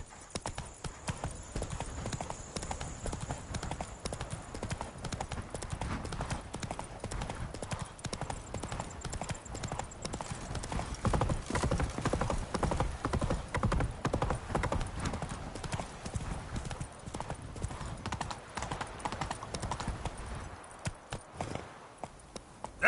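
Dense, rapid hoofbeats from a horse trotting in The Witcher 3: Blood and Wine video game run continuously and close, with a faint whinny and thinning out near the end.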